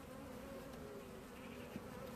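Dense, steady droning buzz of many honeybees close by around hive frames, continuous with no pauses and no voices.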